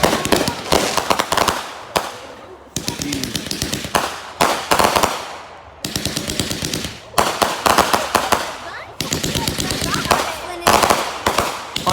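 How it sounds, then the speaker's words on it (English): Fourth of July fireworks and firecrackers bursting in rapid, loud volleys of crackling bangs that come in bursts separated by short pauses, with voices talking over the explosions. "Light up the fireworks for 4th of July."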